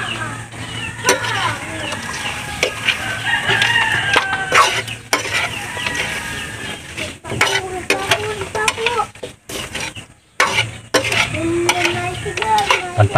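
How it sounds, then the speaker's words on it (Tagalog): Duck adobo is stirred in a pan in a hut kitchen, with scraping and stirring noises close by under sizzling. A rooster crows and chickens cluck nearby, and someone speaks in between. "Haluin muna natin konti."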